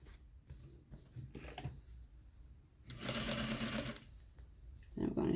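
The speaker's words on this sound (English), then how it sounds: "And I'm going to sew." A sewing machine stitches an invisible zipper into a pillow, running in a loud sustained burst in the middle and again briefly at the end, with quieter handling and a voice speaking in the gaps before.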